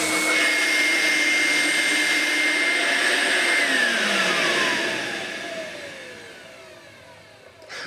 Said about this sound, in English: if I just turn it on, it's got a lot more suction now that all the rubber has been cleaned up